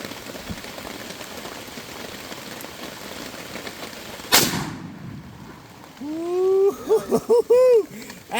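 A single loud Mosin Nagant 1943 rifle gunshot cracks out of steady rain drumming on a tarp overhead, its blast leaving a fading tail, followed by people talking nearby.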